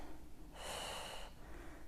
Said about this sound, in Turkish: Nefes al, ver.